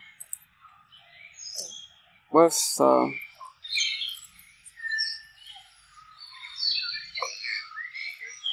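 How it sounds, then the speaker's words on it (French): Birds call in the open, with sharp chirps, squawks and trilling bursts scattered over several seconds, one loud close call standing out, while a person speaks briefly nearby. "Tu n'entends pas le cri des oiseaux."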